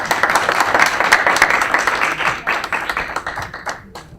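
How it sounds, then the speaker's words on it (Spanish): An audience applauds after a talk on migration law in Mexico, a dense burst of clapping that thins into scattered individual claps and fades out within a few seconds. "Un aplauso, por favor."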